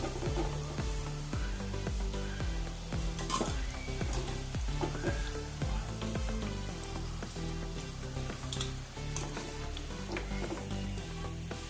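Cauliflower Manchurian frying in hot oil in a pan, a continuous loud sizzle broken by repeated scraping and clattering stirring strokes close by, no talking.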